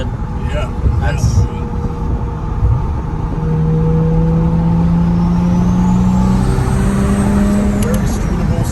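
A car engine fitted with a Remnant Performance 65 Omega turbo and a T50R1 mod, loud and close, revving with rising and falling engine tones and turbo whine, while people talk over it.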